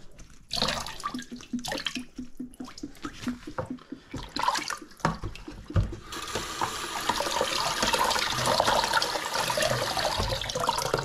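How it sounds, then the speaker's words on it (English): Water squeezed out of a splash bag of dyed CDC feathers, with intermittent dripping and squelching pulses that give way to a continuous rushing, faucet-like stream of water nearby. "And then just basically just squeeze the water out of it."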